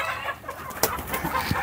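Used hens and pullets clucking in a farm pen, a few short, scattered clucks rising over a steady, noisy background with no one talking.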